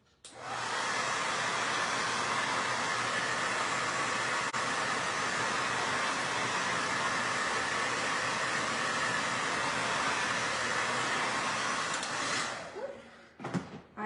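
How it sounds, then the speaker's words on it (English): A blow dryer runs loud and steady for about twelve seconds, a constant rushing whir, then cuts off with a few brief clicks at the end. "I'm gonna hit this with the blow dryer again"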